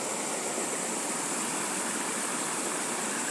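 Water pours from a dam into a village irrigation channel in Devli, a loud, steady rushing roar that stays even from start to finish with no talk over it.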